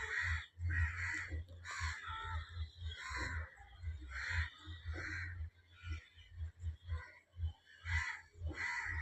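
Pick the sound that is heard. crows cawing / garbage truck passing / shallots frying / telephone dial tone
crows cawing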